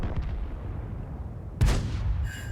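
A tank cannon fires in the World of Tanks video game, one sharp loud boom that stands out abruptly over a low rumbling battle background, followed by a brief ringing tail.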